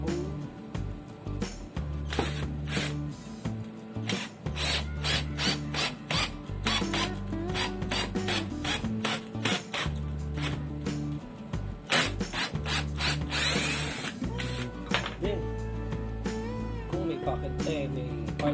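Mitsushi cordless drill driving a screw into a pilot hole, with repeated short bursts of whirring motor and mechanical rattling, close and fairly loud, broken by pauses.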